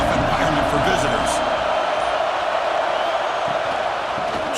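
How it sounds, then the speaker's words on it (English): A large stadium crowd roars in EA Sports College Football during the early going of a Miami Hurricanes versus Alabama Crimson Tide game. The roar is a steady, dense wash of noise throughout, with a commentator talking over it. "Listen to the crowd energy here in the early going."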